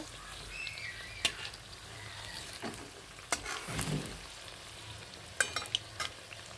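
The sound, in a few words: pakoras frying in oil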